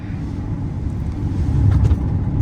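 Zeekr 7X AWD electric SUV with orange brake calipers driving quickly past through a corner, a short rising whoosh of tyre and road noise that peaks near the end before easing off.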